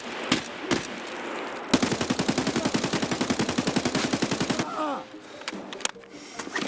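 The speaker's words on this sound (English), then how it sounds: "pretty much dumped 2 mags, missing all of the shots on this guy" Sustained automatic gunfire in Escape from Tarkov, two magazines emptied in rapid, loud bursts of evenly spaced shots lasting several seconds, with scattered single shots and movement sounds before and after.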